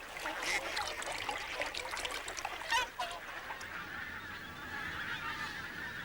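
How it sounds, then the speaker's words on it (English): Pink-footed geese honk repeatedly in a loose flock at Martin Mere in Lancashire, a chorus of nasal calls carrying from a distance over a soft background hiss. "pink-footed geese from Iceland have overwintered here"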